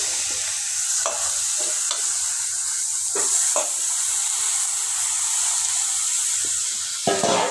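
Chicken sizzles and fries in a hot pan while being stirred, with steady crackling hiss and occasional louder scrapes and clatters of the spoon against the pan, close and continuous without talk.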